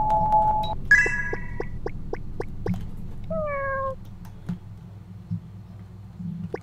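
A cat meowing in the video game Asleep: a short electronic chime, then a quick series of light meows in steady rhythm and a longer drawn-out meow, over a low ambient music drone.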